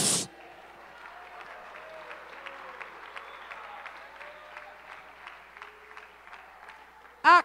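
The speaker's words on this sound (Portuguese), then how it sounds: "Aplaude Jesus." A church congregation applauds steadily, a dense patter of many clapping hands that holds evenly for about seven seconds before a voice cuts in at the end.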